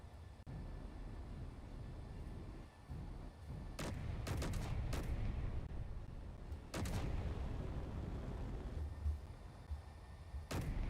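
Heavy spaceship guns fire in Space Engineers, a cluster of sharp booming shots around the middle followed by a later burst, over a constant low engine rumble.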